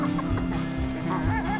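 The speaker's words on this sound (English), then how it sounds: "Are you bringing home a chicken?" A hen held in someone's arms on a farm gives a few soft, close clucks over a short stretch, with faint background noise.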